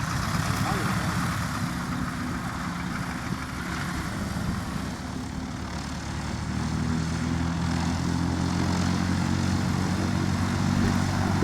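A propeller airplane taxis on the ground at a small, busy airfield, its engine droning steadily and fairly close for the whole stretch, a continuous low rumble that swells slightly toward the end.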